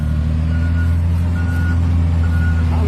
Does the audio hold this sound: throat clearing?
no